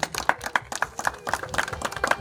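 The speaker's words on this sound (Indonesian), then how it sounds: "Ya, berikan tepuk tangan." Handclaps from wedding guests, a sparse round of individual claps with a loose rhythm, moderately close and fairly quiet, with no talking over them.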